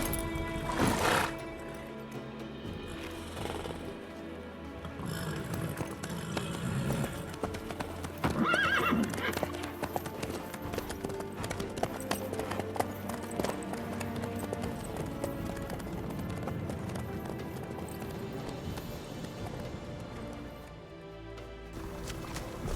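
Horse hooves clip-clop steadily through The Witcher 3 video game, a continuous trotting rhythm with a whinny, set against game music and ambience, with faint dialogue now and then.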